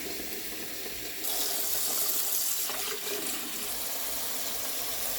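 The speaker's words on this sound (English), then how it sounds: "While the water is filling up for the lettuce" Tap water runs into a sink filling up to wash lettuce, a steady close rush that grows louder and brighter partway through, with no talk.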